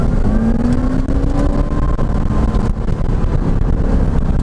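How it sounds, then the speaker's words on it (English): A Porsche 944 fitted with a supercharged LS1 V8, custom exhaust and close-ratio gearbox revs loudly, its deep engine roar joined by a rising supercharger whine, with wind buffeting the microphone. "So it's got a supercharger whine like you hear on Hellcats and some of the supercharged Fords."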